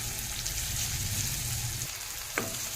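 Garlic chutney sizzling in hot oil in a pan with dried chori beans, a steady close frying hiss with a brief clink near the end.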